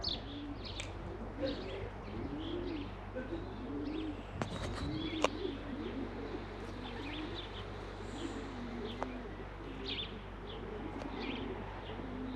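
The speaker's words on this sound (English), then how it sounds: "Definitely 60 odd pigeons up there" Many pigeons, around sixty young birds, circle overhead outdoors while soft cooing and scattered chirps drift in at a distance over steady low background hum, with a couple of sharp knocks midway.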